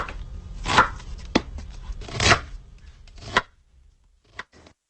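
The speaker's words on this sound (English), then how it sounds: "Stand the corn cobs upright and slice off the yellow kernels using a knife." A knife slicing kernels off upright boiled corn cobs, several separate crisp cutting strokes at an uneven pace, close and fairly loud, ending in a faint short cut.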